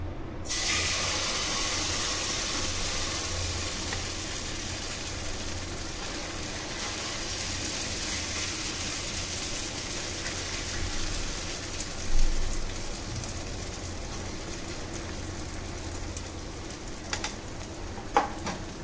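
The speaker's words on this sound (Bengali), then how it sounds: "দিয়ে এবার চিল্লারের এই গোলাটা" Oats chilla batter sizzles and fries steadily in an oil-brushed pan, a continuous close crackling hiss with a few brief clicks near the end.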